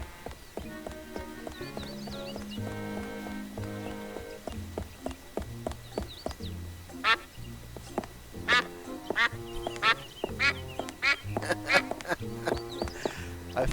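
Repeated duck quacks in the video game Escape from Monkey Island come in a lively series over a clip-clopping, plucky musical background, with sharp clicks throughout.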